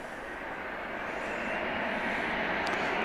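An American Airlines Airbus A321 jet arriving at DFW Airport from Los Angeles at night, a steady broadband engine roar that builds slightly as it approaches, with no voices.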